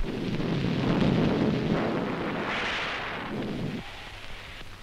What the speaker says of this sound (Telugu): అయ్యో వర్షం వచ్చేలా ఉంది